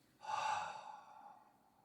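A single long, breathy exhale after a held breath, close and soft, fading gradually over about a second and a half.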